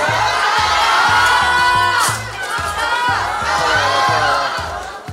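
A large crowd of fans shrieking and cheering in an airport arrival hall as a celebrity walks out, a loud, dense wall of high-pitched screams with shouting voices mixed in, sustained and close.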